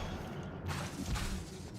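A fire spell, Incendio, is cast in the video game Hogwarts Legacy: a broadband whooshing burst swells out of steady rumbling background noise and rolls on for about a second at moderate loudness, with no voices.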